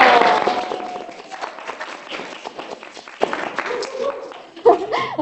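Students at a school student council election campaign event clap and cheer, with a burst of applause at the start that thins into scattered claps under ongoing talk and crowd chatter.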